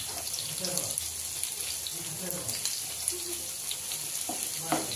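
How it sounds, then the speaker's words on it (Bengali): Paneer cubes for chilli paneer fry in a pan with a moderate sizzle and occasional stirring clinks, alongside a faint watery rush and soft background voices. "পনিরটা একটু ভালো সুন্দর করে ভাজা হলো"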